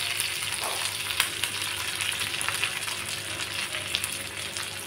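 Stuffed okra (ladies finger) frying in a pan on a stove set to low, giving a steady close crackling sizzle with a few light stirring clicks and no talking.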